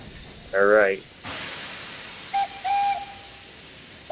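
A video-game steam locomotive whistle on Sodor gives a short wavering toot, then a burst of steam hiss, followed by a longer, steadier whistle blast.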